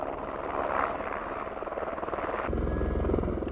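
A rescue helicopter flies over an avalanche site at a ski area in Gulmarg, its rotor throbbing steadily and loud throughout, with the pulsing growing heavier and closer in the last second.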